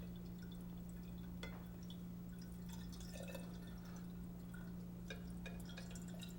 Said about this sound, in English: So slowly but quickly pour this in.